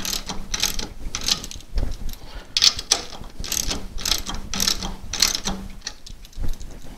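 Someone tightens the nut on the handwheel of a Handi Quilter Gallery or Babylock Kinetic quilting frame, giving a run of about eight close ratcheting clicks in a steady rhythm with no one talking.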